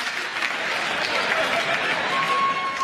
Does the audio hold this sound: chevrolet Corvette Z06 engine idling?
no